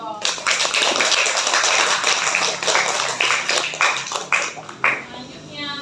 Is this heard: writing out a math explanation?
no